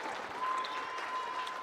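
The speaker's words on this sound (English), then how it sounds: "Let's clap it up." A crowd at a motivational gathering claps together in a steady, dense burst of applause, moderately distant and fairly soft, with no voices standing out.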